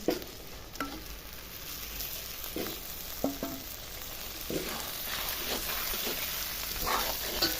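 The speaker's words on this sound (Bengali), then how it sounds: "চাল ডাল মাছের মাথা আলু দিয়ে আমি ভালো করে কষাই নিলাম" Rice, lentils, potato and a katla fish head sauté in spices in a pan, giving a steady sizzle punctuated by periodic scraping strokes of stirring.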